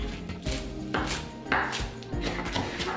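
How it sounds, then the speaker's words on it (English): A kitchen knife chops a bunch of cilantro by hand, the leaves squeezed together on a board, giving quick, close, rhythmic chops in short runs with no talking. "Now moving on to the cilantro. We're just gonna cut that by hand."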